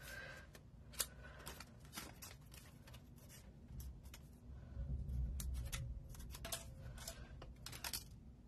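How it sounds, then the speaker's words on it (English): Scissors roughly cutting a paper piece out for a country birdhouse craft, a run of quick snips and rustles over about eight seconds, close and quiet, with no talking. "I'll just roughly cut around it."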